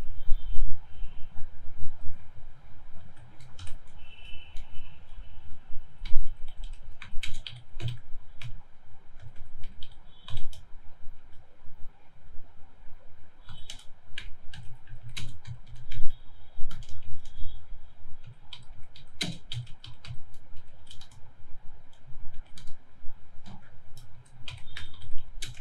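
Code is typed on a computer keyboard in Java, with irregular bursts of crisp key clicks and occasional heavier keystrokes going on continuously, close and clear with no talking.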